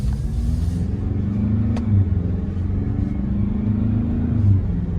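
A 2022 Ford Ranger Wildtrak pickup driving in sport mode gives a steady, close engine drone with low rumble and slight rises in pitch, continuous and without speech.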